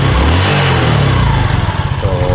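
Motorcycle engine fitted with a Split Fire ignition coil runs loud and close, a steady low idle that climbs into rhythmic revving pulses near the end, with no voices.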